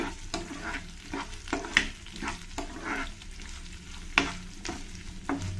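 Chopped onion sautéing in oil for an ivy gourd and cashew curry, a steady soft sizzle with repeated scraping stir strokes of a spoon against the pan, close and alone.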